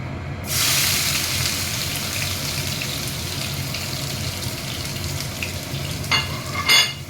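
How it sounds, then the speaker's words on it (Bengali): Onions drop into hot oil in a pan for a masala okra dish and burst into a loud hiss that settles into a steady sizzle, with a few clatters of utensils near the end and no talking. "তেল গরম হয়ে গেছে, এবার আমি পেঁয়াজ দিয়ে দেবো।"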